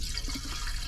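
Water rushes back up the riser of a clogged commercial sewage ejector pump, a brief, steady gush with a trickling burble under it, close and moderately loud.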